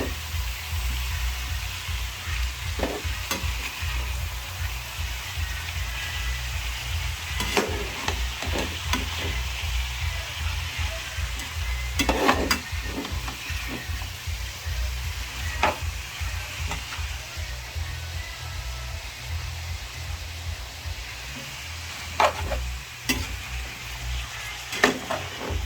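Food sizzles steadily in a pan for a simple home-cooked dinner dish while a utensil stirs it now and then, sharp scraping clatters cutting through the constant frying hiss, with no one talking.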